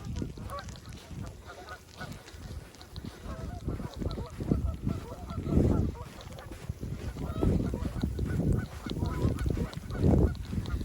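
A large flock of geese, with some ducks, honks continuously outdoors on a shore in snowy, icy weather, dense and overlapping calls carrying over a rumbling background with faint voices.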